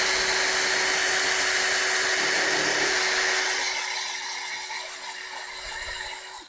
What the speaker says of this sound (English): now what I'll do is sand it, because this is a finished piece now.